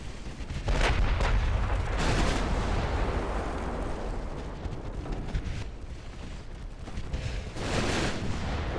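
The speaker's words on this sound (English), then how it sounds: "we're actually landing shots with the main guns" Warship main guns fire in the naval game Ultimate Admiral Dreadnoughts, heavy booming salvos with sharp blasts near the start and again near the end over a continuous rumbling roar of battle, no voices.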